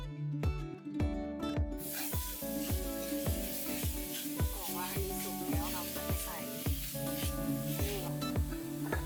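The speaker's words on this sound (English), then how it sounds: "now we're gonna add minced meat and seafood that we prepared for stir frying" Minced meat and seafood hit a hot stir-fry pan for Thai holy basil stir fry, giving a steady close sizzle with repeated scraping and stirring strokes throughout.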